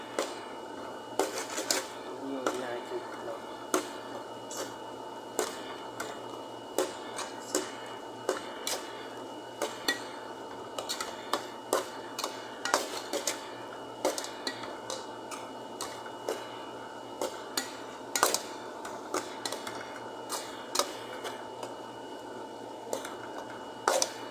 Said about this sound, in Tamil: காய்கறி மசாலையை போட்டுக்கலாம் கொஞ்சம் கிண்டி விடலாம்